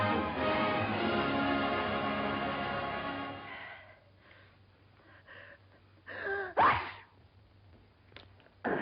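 A sharp, sudden sneeze bursts out near the mic after a long breathy wheeze, followed by quiet rustling and a short snort.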